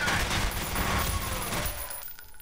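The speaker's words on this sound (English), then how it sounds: "stop shooting at me" Dense, continuous gunfire rattles through a firefight in F.E.A.R., loud and sustained like overlapping automatic bursts, then cuts off abruptly near the end.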